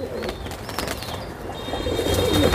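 Teddy pigeons, a golden pair at a pigeon shop, give soft low cooing close by amid rustling background noise.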